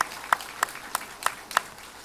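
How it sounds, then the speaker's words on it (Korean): A church congregation claps together during a Sunday morning service, five evenly spaced rhythmic beats in unison, crisp and moderately loud in a large room, with no talking over them. "우리 다시 한번 살아계신 우리 하나님께 영광의 박수 올리겠습니다."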